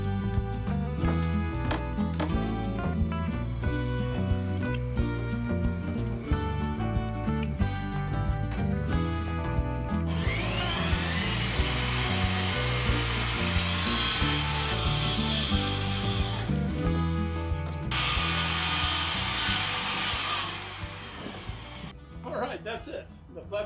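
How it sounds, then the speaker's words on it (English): A saw cuts through wooden boards along the edge of a shed floor frame, a harsh buzzing burst of cutting that starts partway through and runs for about ten seconds over background music, then stops. "I'll just cut that nice and straight, a ½ inch outside the floor frame."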